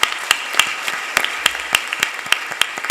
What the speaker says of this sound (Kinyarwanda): Dukomere Imana amashyi menshi cyane.